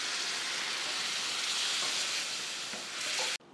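Water poured into a hot pan of frying spices for egg curry, a loud broad hiss that swells and steadies, then cuts off abruptly near the end.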